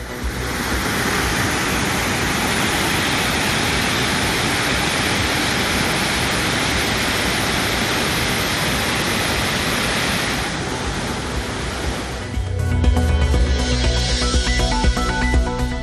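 Old Courtallam waterfall in flood roars as a dense, continuous rush of falling water, loud and unbroken, with the texture shifting slightly near the end.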